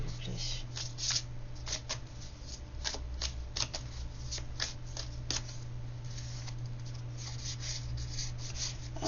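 Tarot cards shuffled continuously, with dense riffling and rubbing bursts running throughout, close and fairly quiet over a steady low hum.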